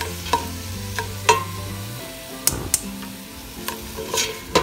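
Tomatoes stir-fried with onion in a pan sizzle continuously, with sharp utensil clicks and scrapes against the pan at irregular moments over a low background hum.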